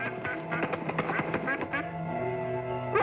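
A duck quacks in a quick series of loud, close calls that trail off into a steady tone at the end, with no speech over it.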